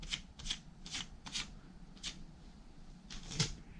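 Strips of shipping tape are pressed onto and peeled off a garment to lift lint, giving a series of short dry crackling rips at an irregular rhythm, close and fairly quiet, with no speech.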